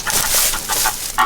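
A hen clucks inside a chicken coop, a run of short, fairly loud clucks over a steady hissy background noise, with a slightly louder cluck near the end.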